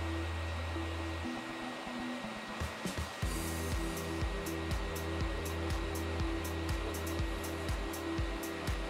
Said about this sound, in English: For this test, I set the fan speed to the max and then crank the heat all the way to 300 degrees.